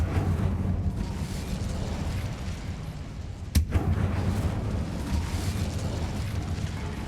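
Incendio fire spell cast in the Hogwarts Legacy video game, heard as a sharp, sudden burst in the middle of a steady, roaring, rumbling game background, followed by a short crackle.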